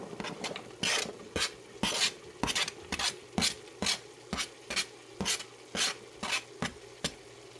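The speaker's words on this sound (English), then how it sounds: "And then I will add the onions and give them a nice saute as well." Onions sautéing in a pan for a meat sauce, stirred with steady, evenly spaced scraping strokes about twice a second over a soft sizzle, close and moderately loud.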